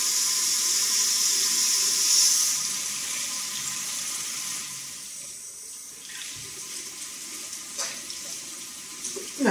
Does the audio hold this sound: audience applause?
no